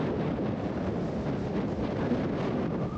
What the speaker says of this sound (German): Auf dem Deich ist jetzt richtig windig.